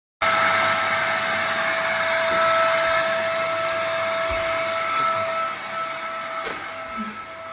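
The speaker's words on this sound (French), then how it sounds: "j'ai vu l'aspirateur qui s'aspire tout seul" A vacuum cleaner runs steadily while a room is cleaned, a loud continuous whine and rush starting abruptly and holding throughout, easing slightly toward the end, with no talk over it.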